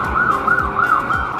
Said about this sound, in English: Like the sound of the police